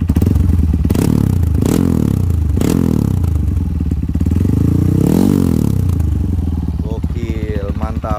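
A Honda CRF 150L trail bike with a bore-up engine revs hard in repeated loud bursts, rising and falling several times close by, with a rattly exhaust edge and a final sharp blip near the end.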